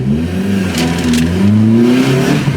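Vauxhall Corsa with a 310 horsepower engine, loud and close, revving steadily as the pitch climbs and falls in a continuous drone, with no talking.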